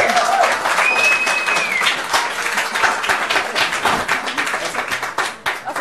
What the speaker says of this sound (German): Ihr dürft jetzt alle ganz laut klatschen für unseren Experten